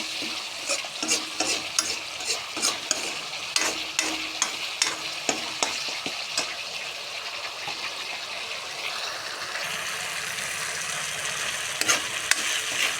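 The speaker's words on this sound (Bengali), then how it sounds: "দিয়ে দিলাম দিয়ে হালকা হালকা করে নাড়তে থাকবো" Lentil fritters being stirred into a curry in a frying pan: repeated scraping spoon strokes over a steady sizzle, close and fairly loud throughout, with no talking.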